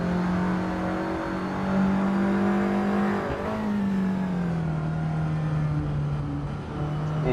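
Touring-car engines drone loudly in a simTC sim racing event at Barbagallo, a sustained engine tone holding pitch, dipping briefly and then settling slightly lower, with no talk over it.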